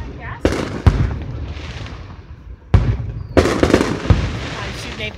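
Fireworks go off in a parking lot with sharp booming bangs and crackling bursts at irregular intervals, loud and close. Some are single pops and some are clustered crackles, and people talk in between.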